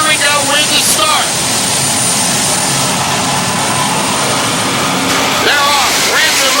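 Jet-propelled funny cars launch at the start of a drag race with a loud, continuous jet roar. Rising and falling whines sweep through it, and voices sound faintly underneath.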